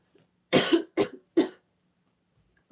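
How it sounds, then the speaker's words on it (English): Three short, sharp coughs from one person close by, spaced about half a second apart, in an otherwise quiet room. "Oh, sorry guys, I shouldn't cough."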